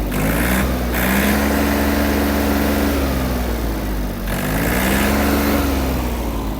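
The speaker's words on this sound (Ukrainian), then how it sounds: "Трактор вже гарно прогрівся. Білого диму не виявлено. Давайте ще додамо обертів." The small diesel engine of a warmed-up Yanmar RS-27 mini tractor runs loudly nearby, its revs rising and falling twice in smooth swells over a steady rumble.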